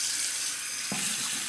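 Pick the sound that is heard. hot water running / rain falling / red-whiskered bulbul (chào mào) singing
hot water running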